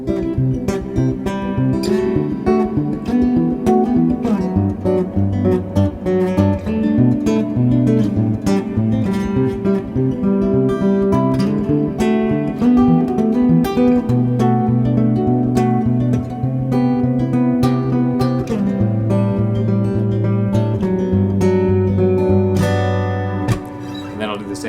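A short, plucky instrument line runs through a reverb pedal stacked into a larger hall texture reverb, giving dense washy tails behind continuous rhythmic notes and a low sustained bass layer throughout.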